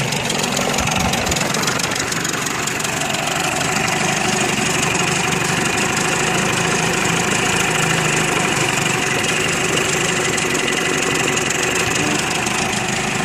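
A stall-prone engine idles steadily with its RPMs raised slightly, a constant loud mechanical drone with vibration and a faint knock running unbroken throughout, with no one talking.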